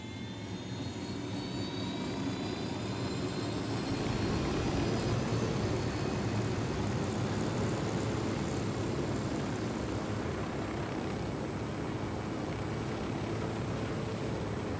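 Aircraft engine in the video game Ghost Recon Wildlands, a steady loud jet-like roar with a high whine, continuous throughout with no talking.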